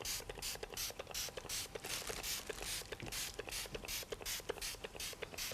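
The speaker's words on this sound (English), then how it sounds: "So I'm just going to spray the skin." A herb and mineral spray bottle is pumped repeatedly onto skin, giving a quick, regular run of short hissing bursts with faint clicks from the pump, close up and fairly quiet.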